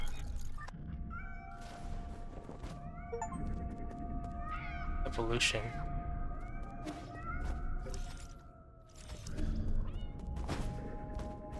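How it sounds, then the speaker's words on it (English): Cats meow repeatedly in a dark video game scene, several distinct rising and falling cries scattered over game music and effects, while a player talks at times. "So there are cats in the game."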